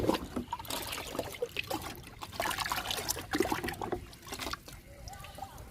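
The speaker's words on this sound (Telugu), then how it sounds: "లిక్విడ్ ఇస్తున్నా." Liquid fertiliser poured onto a potted plant, a soft, close trickle and splash of water soaking into soil that runs for several seconds.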